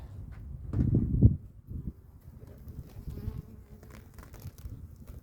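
Honey bees buzzing around an open beehive during a February colony inspection, a low droning hum that swells loudly near the start and then settles into a steadier, softer background buzz.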